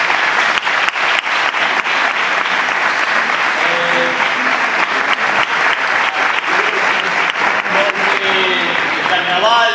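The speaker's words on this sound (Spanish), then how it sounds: "un aplauso para ellos, por favor." A carnival proclamation audience applauds steadily and loudly throughout, a thick, sustained wash of clapping with a few voices calling out beneath it.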